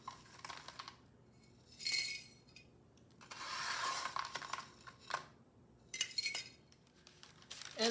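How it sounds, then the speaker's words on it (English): Baked vanilla cinnamon granola clusters are poured into a glass container, giving scattered light clinks and rattling bursts of dry pieces against glass, close and fairly quiet. "And I would just store it in my glass container."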